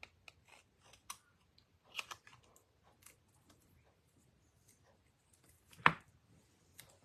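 Scissors trimming the edge of a paper craft card, a series of faint close snips and clicks spread unevenly over several seconds, with one sharper louder cut near the end.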